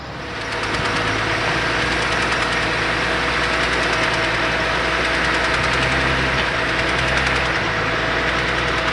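A BMW X6 engine running with a steady rapid knocking, loud and close, continuing without a break and with no talk over it.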